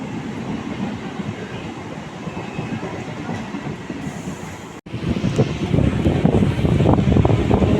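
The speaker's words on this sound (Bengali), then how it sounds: "ট্রেন ঢুকে গেছে এবার ট্রেনে উঠে তারপর দেখি" A train pulls into a station on a journey toward Tarakeswar, giving a steady broadband rumble with some wind buffeting, then a louder, denser clatter after a brief cut near the middle.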